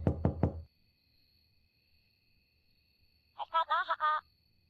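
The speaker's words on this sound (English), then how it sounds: "Knock, knock, knock." Three quick, sharp knocks on a door in the plumbing horror game Drainage LTD. land close and loud, followed by silence and then a burst of chirpy, synthetic-sounding speech.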